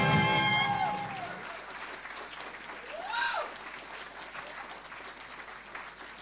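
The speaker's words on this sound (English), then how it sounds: "give another round of applause" Audience at an awards ceremony livestream clapping, a dense patter of applause that fades down and carries on steadily as a voice speaks over it, with a sung note at the start.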